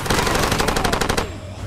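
Loud rapid automatic gunfire in the video game Far Cry 2 rattles off in a fast, evenly spaced burst and then cuts out, leaving a short ringing tail.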